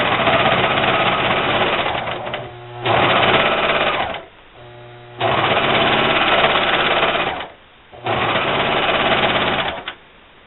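A serger overlock machine runs a continuous seam along the long side of T-shirt fabric, whirring loudly and steadily in four long runs broken by brief stops, with no talking.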